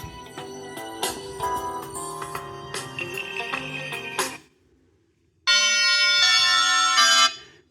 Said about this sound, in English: just look at the alarm sound